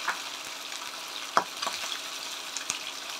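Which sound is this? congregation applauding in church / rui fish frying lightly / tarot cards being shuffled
rui fish frying lightly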